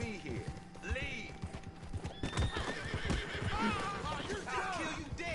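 Video game horse on a PS4 live broadcast, with rapid clip-clop hooves and several rising, wavering whinnies over a busy game soundscape, heard close and fairly loud while someone talks over it.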